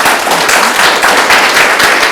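An audience applauds the US ambassador to Côte d'Ivoire, Jessica Davis Ba, at a broadcast event, a dense, steady wash of clapping that holds at even loudness throughout.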